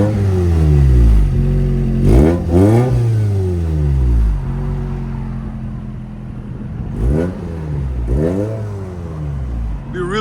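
A 1987 Toyota MR2 with the 1.6L 4A-GE engine revving hard through its exhaust, several sharp rising and falling revs close by, then settling to a lower idle between blips.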